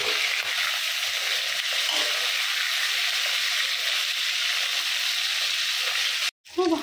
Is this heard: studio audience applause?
no